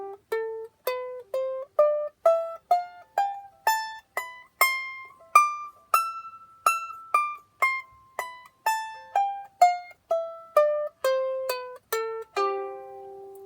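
A small piccolo-size ukulele, tuned an octave higher than standard, plucks a bright melody of about two dozen short, clean notes in an even rhythm, each decaying quickly, heard alone at moderate volume.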